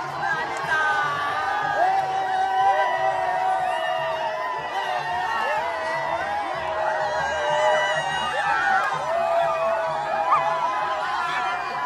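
A dense crowd at a village yatra fair for Bahiridev in Vadhav whoops, laughs and cheers continuously in celebration, a steady loud wash of many voices with shouts rising above it throughout.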